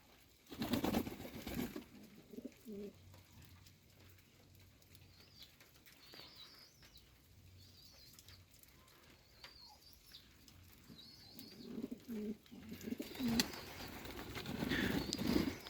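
Pigeons coo softly in a dovecote at season's end, among them a wild pigeon, with bursts of wing flapping at the start and end and faint chirps in between, no talk.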